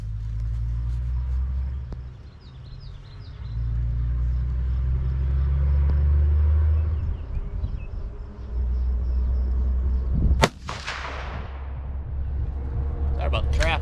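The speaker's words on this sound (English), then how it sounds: "Sorry about the traffic, guys." Road traffic passes near a 100-yard rifle range: a deep, rumbling drone of vehicles rises and fades over several seconds, and one sharp gunshot-like crack stands out near the end. A faint voice is heard.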